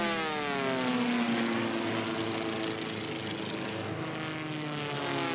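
Formula One class propeller race planes roar past at the Reno Air Races, a loud, droning multi-engine pass whose pitch sweeps downward as the aircraft go by, fading slightly toward the end.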